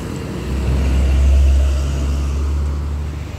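A large Sinar Jaya or PPP coach bus on an Indonesian road passes close by with a loud, steady low engine rumble that swells and fades over a few seconds, with no talking.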